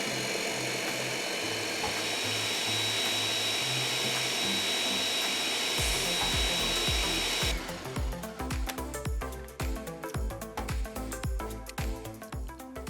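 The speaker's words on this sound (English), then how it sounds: "we just want to blend this until all of our ingredients are well combined" A blender whirs steadily while mixing cream cheese flan ingredients, then switches to a choppier, pulsing churn with rhythmic knocks for the second half, loud and close with no talking.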